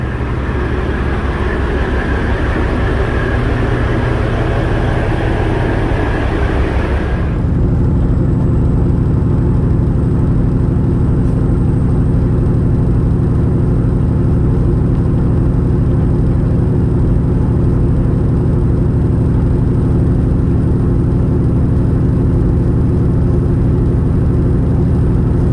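A semi truck rolls along a highway in a steady, loud droning rumble of engine and road noise that continues without a break, with a brief shift in tone early on and no talking.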